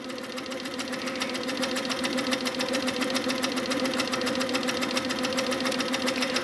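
A sewing machine runs steadily while free-motion quilting feathers, its needle hammering in a fast, even rhythm that stays loud and close throughout with no pauses.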